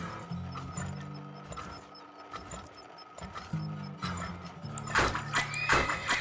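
Horses in the video game Turmoil, several close neighs and whinnies repeating through the clip over a faint clip-clop of hooves, with a brighter burst of sound near the end.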